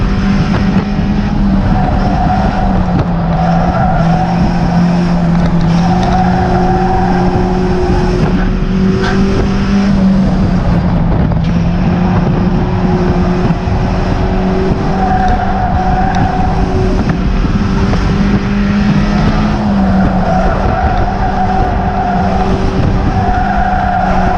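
Stock cars race on the oval at Cowdenbeath Racewall in a sustained loud roar, with engine notes rising and falling as the pack circles and tyres scrub through the bends, and no voices over it.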